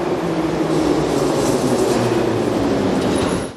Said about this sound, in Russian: тематический поезд прибывает на одну из старейших станций метро в Самаре